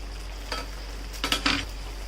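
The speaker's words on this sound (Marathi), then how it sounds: "असंच आपण चिकन मस्तपैकी शिजवून घेणार आहोत" Green chicken in a thick green masala gravy being stirred in a pan with no water added, giving a few brief, soft scraping and sizzling strokes over a low steady hum.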